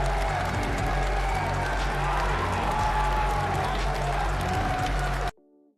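A large crowd cheers and applauds continuously in a replayed recording, a dense roar of clapping and shouting held at steady loudness before cutting off abruptly near the end.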